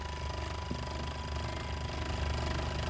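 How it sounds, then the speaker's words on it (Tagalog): The motor of an electric fan that was just repaired runs with a loud, close, steady low rumble and faint rattle. It goes on without pause and no one talks. "Dinig nyo yung motor."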